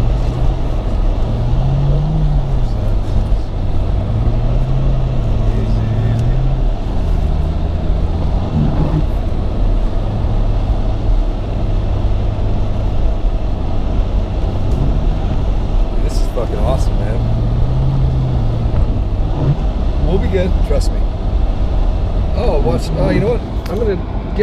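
Four-wheel drive vehicle driving at night, a steady engine drone with shifting revs and occasional rattles, heard under people talking.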